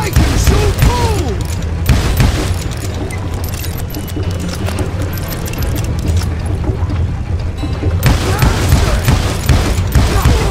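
Gunfire in Call of Juarez Gunslinger, loud volleys of shots over a steady clattering din of battle. Someone shouts over the shooting.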